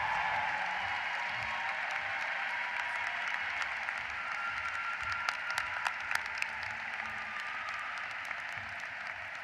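A commencement crowd at the 2023 Boston College Law School ceremony gives the new graduates a sustained round of applause, a dense, even wash of clapping from a large audience in a big hall.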